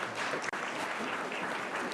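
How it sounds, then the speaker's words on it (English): Warm applause from an audience at a university building event, a dense continuous patter of many hands clapping briefly, with a momentary dropout partway through. "can you all join me in giving Mark Pagano just a warm applause to thank him for his incredible effort."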